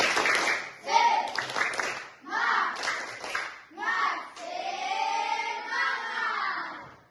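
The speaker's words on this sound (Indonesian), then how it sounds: "Ibu mau kasih kalian untuk tepuk semangat dulu" A school class performs a rhythmic spirit clap in bursts of quick claps mixed with children's chanting voices, several short rounds ending in a sustained shout, fairly close in a classroom.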